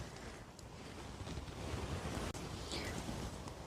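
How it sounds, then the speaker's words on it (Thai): Wind moving through forest leaves while mushrooms are gathered, a steady, dense rustling hiss that swells slightly midway and fills the whole stretch with no voices. "เสียงใบไม้ เสียดสีอีดออดอีดออด"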